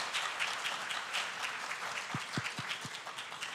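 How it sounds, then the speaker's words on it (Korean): Audience at an opening ceremony for a software policy research institute applauds, a steady wash of many hands clapping at moderate distance, with a few low thumps near the end. "다시 한번 큰 박수 부탁드리겠습니다"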